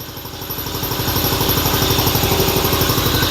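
A workshop air compressor runs with a rapid, even pulsing chug, close and steady, building slightly in loudness.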